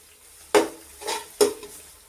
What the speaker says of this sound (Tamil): உப்பு சேர்த்து நல்லா வதக்கி விடுவோம்